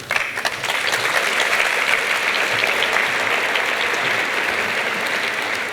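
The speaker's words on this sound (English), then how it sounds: "Lots of applause." Sustained applause from a large audience honoring a scholarship recipient at the 2012 Reagan Presidential Foundation Scholarship Program, steady and dense throughout with no pauses.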